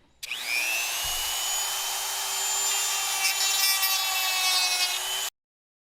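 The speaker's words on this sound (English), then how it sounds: "now I got Dremel here. We're going to clean up around the edges and inside so we can make sure we got enough room" A Dremel rotary tool trims the plastic housing edges of a 1992 Yamaha WaveRunner WR500, a loud, steady high-pitched whine that spins up and runs continuously for about five seconds before cutting off abruptly.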